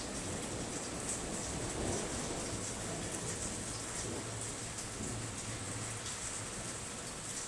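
Steady, dense rain pouring down during a thunderstorm, a constant hiss of drops with faint low rumbling underneath, no voices.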